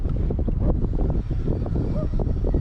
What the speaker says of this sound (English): that wind's getting worse